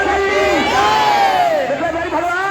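Dense crowd of many voices shouting and calling out together during a Mithila pilgrimage procession, a loud continuous roar with rising individual cries on top, close and filling the whole moment.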